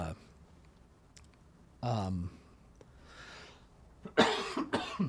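A couple of harsh, close coughs, one midway and a burst near the end, with quiet clicks and rustling between.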